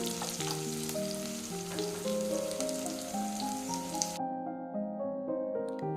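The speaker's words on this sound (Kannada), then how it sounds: "ಈರುಳ್ಳಿ 5 ನಿಮಿಷದಿಂದ ಚೆನ್ನಾಗಿ ಫ್ರೈ ಆಗಿದೆ" Chopped onions fry steadily in a pan for a country-style chicken chops dish, giving a continuous soft sizzle. Gentle melodic music plays over it, and the sizzle cuts out near the end.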